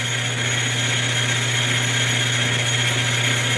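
A Hardinge HLV lathe makes an interrupted cut on a metal fuel cell ring drilled with bolt holes, a steady, loud machine whine with a dense, even cutting rasp throughout.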